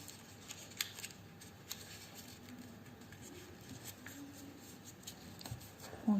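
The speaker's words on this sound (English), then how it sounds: "I fold this in such a way" Sheets of paper are creased and folded by hand to shape an origami lily, giving soft, close rustles and light crisp taps at low volume in a quiet room.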